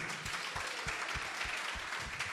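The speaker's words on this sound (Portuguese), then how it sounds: "Vamos aplaudi-los também, toda a igreja." A church congregation claps together, a fairly faint but steady round of applause with distinct rhythmic hand claps rising out of the wash, heard from a distance without clear speech.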